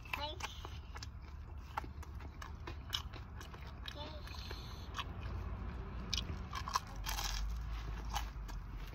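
Someone bites into oven-crisped pizza crust topped with house-made mozzarella, giving faint, close crunches and chewing amid steady restaurant background noise.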